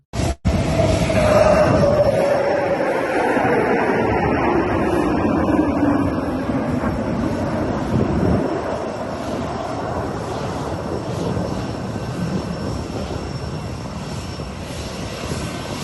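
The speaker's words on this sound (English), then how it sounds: "before leaving Qatar, a military flyover" Military aircraft flying over at a departure ceremony in Qatar, a loud roaring jet engine sweep with a falling pitch that slowly fades into a lingering distant rumble.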